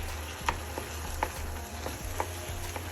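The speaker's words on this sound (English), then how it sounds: "Stir that in." Spaghetti bolognese sauce being stirred in a pan, with soft scraping strokes and faint clicks of the spoon against the pan repeating about every half second over a low sizzling simmer.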